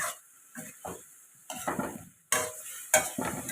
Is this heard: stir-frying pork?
yes